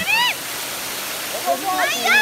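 A limestone waterfall at Eskelim Rud in Lafur rushes as a steady, broad wash of falling water, while voices talk loudly over it close by.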